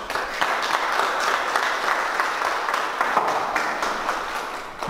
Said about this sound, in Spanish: Pues vamos a darles un aplauso porque ya son esposos.